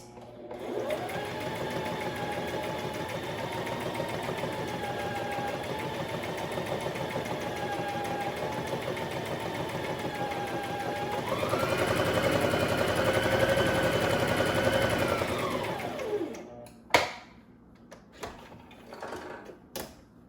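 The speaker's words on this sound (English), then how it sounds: "then try to sew straight" A basic sewing machine stitches a straight line in a steady, fast mechanical hum with rapid needle chatter that speeds up near the end, then stops, followed by a few soft clicks.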